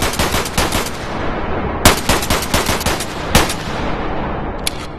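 Rapid full-auto pistol fire in the VR game Bonelab, a dense unbroken stream of loud, close gunshots with two harder shot bursts partway through and a brief click near the end.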